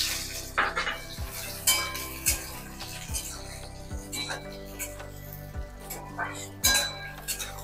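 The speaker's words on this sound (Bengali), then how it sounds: "এবার তেলেতে আমি পেঁয়াজ কুচোগুলো দিয়ে দিলাম।" Chopped onions go into hot oil with nigella seeds and dried chilli in a pan, with repeated clinks and scrapes of a utensil stirring against the metal over a faint, low sizzle, heard close by.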